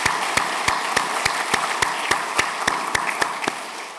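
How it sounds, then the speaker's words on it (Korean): A church congregation at a Sunday worship service claps together in a steady, even rhythm, about three beats a second, with no voices over it. "큰 박수로 환영하겠습니다"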